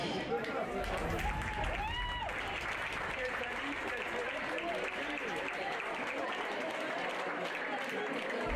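Audience applause at a pony eventing Grand Prix prize-giving, a steady dense clapping that holds loud from start to finish, with a voice briefly rising over it near the start.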